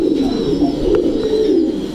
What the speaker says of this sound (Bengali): আপনার হাতে আরেকটি সুন্দর কবুতর দেখতে পাচ্ছি, এটা কি জাতের কবুতর ভাই?